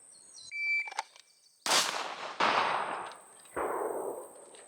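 Pistol shots from performance pistol training ring out as three sharp cracks, each followed by a decaying ringing tail. Faint beeps and a clank come before the first shot, and a steady high tone hums underneath.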